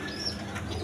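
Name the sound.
pigeons cooing, Chinese owl pigeons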